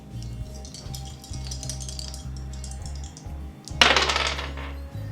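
Dice rattle and clatter across a table during a Battlestations board game: faint scattered clicks first, then one louder burst of tumbling dice near the end, over a low background hum.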